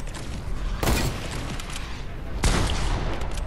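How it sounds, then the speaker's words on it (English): Two loud shotgun blasts in a video game, about a second and a half apart, each a sharp broadband crack with a short tail, over faint background noise. "Dude, you have a shotgun?"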